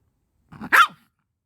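A single short, gruff bark from a dog nearby, preceded by a brief low grumble, then silence.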